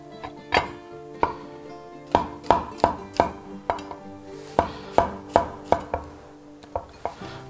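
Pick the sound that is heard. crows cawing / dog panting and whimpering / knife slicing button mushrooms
knife slicing button mushrooms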